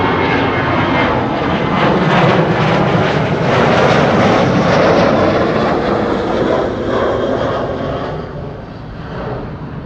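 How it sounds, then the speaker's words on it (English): A KLM Boeing 737 jet takes off at Amsterdam Schiphol, its engines producing a loud, broad roar that holds steady and then slowly fades as it climbs away, heard alone without voices. "Now, KLM 737 to Copenhagen, next to take off"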